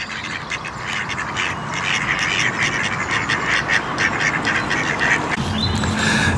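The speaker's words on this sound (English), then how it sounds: "we have found ducks in the duck pond." Ducks quacking on a duck pond in Lickey Hills Country Park, Birmingham, a busy chorus of overlapping calls at close range, steady and loud with no talking.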